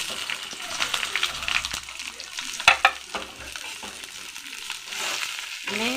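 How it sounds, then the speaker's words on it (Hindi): Capsicum frying in a pan for a left-over rice biryani gives a steady, close sizzle with brief stirring scrapes and a couple of sharper clatters midway. "आम ए कैप्सिकम को भी टिके फ्राई कर नबा।"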